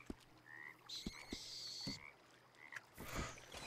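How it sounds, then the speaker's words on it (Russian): Toad croaking in Red Dead Redemption 2 by a lakeshore, a few short croaks spread across the moment amid ambient game sounds and bird-like calls, moderately near. "Жаба точно"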